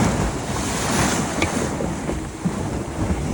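Ocean waves surge and wash around a small sailing boat on the foggy North Atlantic, under steady, loud wind buffeting the microphone.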